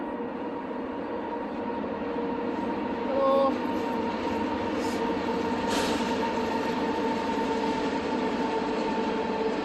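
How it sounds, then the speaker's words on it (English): A train rumbles steadily past at close range, a continuous roar with faint rail squeals, and someone briefly exclaims over the noise. "Meet the train."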